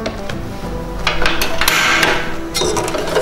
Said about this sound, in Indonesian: Diaduk yang rata hingga mendidih. Ya, kita aduk-aduk sampai mendidih ya.